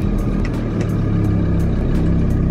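A camper vehicle's engine runs at a campsite, giving a steady, close low rumble that holds an even level throughout, with a few faint ticks and clicks over it and no talking.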